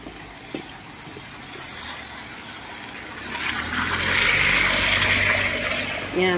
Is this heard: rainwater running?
yes